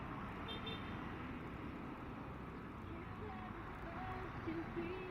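Road traffic along a zipper lane, a steady broadband rumble of cars and engines with a brief horn toot near the end, recorded close while riding among the vehicles.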